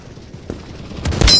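Krunker.io gunfire: a muffled shot at mid-clip, then a louder burst of close, punchy shots near the end over a low game background, no talk.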